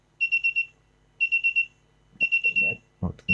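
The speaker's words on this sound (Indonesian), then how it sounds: "Nah, alarm akan hidup." An ESP32-based smart home system's alarm goes off close by, sounding three bursts of rapid high electronic beeps, each about four quick pips, with a few soft clicks and handling noises near the end.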